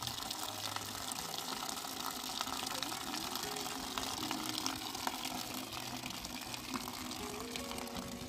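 Water gushes steadily from a tap into a bucket for mopping during a clean-up at a health post, a continuous close rushing splash that holds even throughout.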